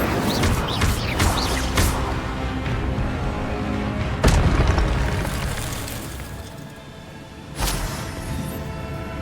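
Incendio fire spell cast in the Hogwarts Legacy video game, a booming blast over a dense game soundtrack, with a second burst near the end.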